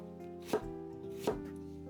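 Knife cutting yuzu-flavored horse mackerel into thin rectangles on a board: two sharp, distinct knocks of the blade about 0.75 seconds apart over a steady hum, no voices.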